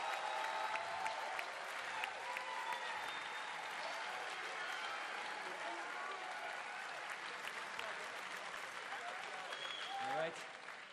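An audience at the BlizzCon 2011 World of Warcraft tournament grand finals gives a steady, dense round of applause and cheering, fairly distant and uniform throughout, fading slightly at the end.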